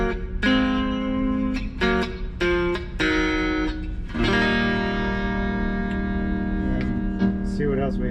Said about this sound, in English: Full volume, a little bit of reverb on this channel.